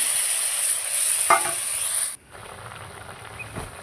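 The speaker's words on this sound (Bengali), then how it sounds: "মশলা কষিয়ে নিয়ে আমি আলু আর মাছ ভাজা কষা মশলার মধ্যে দিয়ে দিচ্ছি" Fish and potatoes sizzle in fried spice paste, a bright hissing fry with a stirring scrape midway before the sizzle drops to a quieter crackle.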